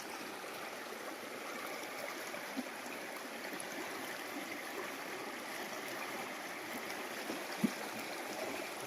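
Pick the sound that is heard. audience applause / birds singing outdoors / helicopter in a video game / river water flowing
river water flowing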